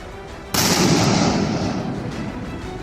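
A powerful explosion triggered by a soldier's button press blows up an excavator brought by thieves, in a Russia–Ukraine war zone: a sudden loud broadband blast that rolls on and slowly fades.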